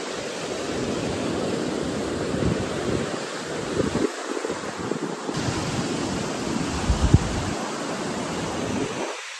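Ocean waves wash continuously onto a beach, a steady broad roar of surf with wind buffeting the microphone and occasional surges, no talk.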